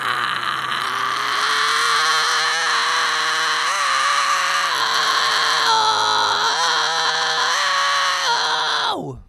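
A continuous harsh, gritty head fry scream from a single voice, demonstrating the screams of a song, sustained at high pitch with small pitch shifts, loud and close, cutting off abruptly.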